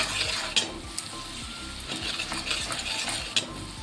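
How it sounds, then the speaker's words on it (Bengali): Onion and garlic paste frying in a pan, with an ongoing sizzle broken by repeated scraping stirs and sharp metallic clinks of a spoon against the pan, close and busy. "পেঁয়াজের সঙ্গে রসুনটাকেও খুব ভালো করে লাল করে ভেজে নেব"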